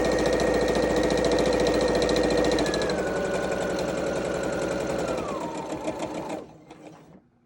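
Sewing machine stitching a duckbill face mask, running in a steady, close whir that drops in speed partway through and winds down to a stop near the end, with no voices.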